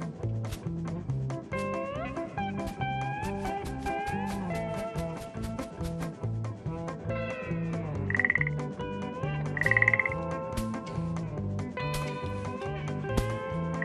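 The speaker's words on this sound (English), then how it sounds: "A frog." A frog croaks repeatedly in short, rhythmic calls over a busy musical backing, with a couple of brighter squeaky accents partway through.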